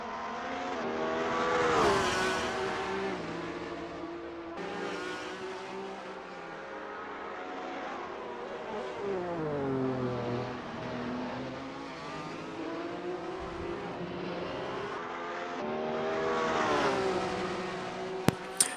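Formula Alfa racing cars lapping the fast Kyalami circuit in an online sim racing league, engines whining and rising and falling through gear changes and passes, loud and continuous for the whole stretch with no talking.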